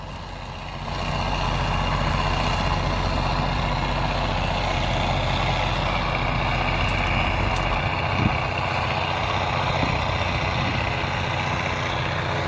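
A straight-piped tractor engine runs steadily at a loud, close, constant drone while seeding soybeans, holding an even rumble throughout with no talk.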